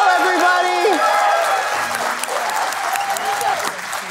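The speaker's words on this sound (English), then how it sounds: "So please, a really big round of applause, the biggest yet" An audience at a 2022 design event bursts into loud, sustained applause, dense clapping from a large crowd that continues throughout, with a voice speaking over it near the start.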